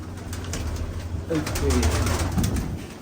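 Pigeons coo close by in a loft, soft rolling calls repeating over a low background hum, with a voice talking faintly underneath.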